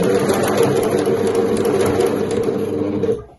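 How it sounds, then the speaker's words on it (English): Domestic sewing machine stitching the neckline of a Breton stripe tee, running in one steady, loud mechanical whir for about three seconds before stopping abruptly. "sew those together"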